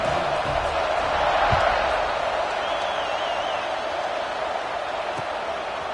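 A football stadium crowd in a video game swells in a steady, broad roar of cheering, loud and continuous for the whole stretch with no talk over it.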